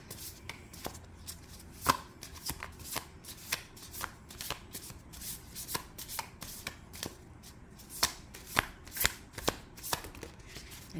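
Tarot cards shuffled by hand in a steady series of crisp riffles and snaps, close and clear, with no talking.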